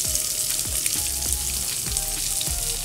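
Onions frying in oil with garlic in a pan, a steady close sizzle with scattered crackles and occasional light stirring knocks.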